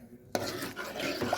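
Dal with sambar powder and green chilli powder being stirred in a pot, a spoon scraping and swishing through thick liquid with a knock at the start, close and alone.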